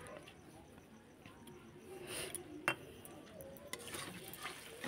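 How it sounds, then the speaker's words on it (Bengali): A spoon stirring chicken pakora curry in a pan just after yogurt is added, with soft scraping and a few light metallic taps against the pan under a low sizzle and quiet talk. "কিছুক্ষণ নেড়ে"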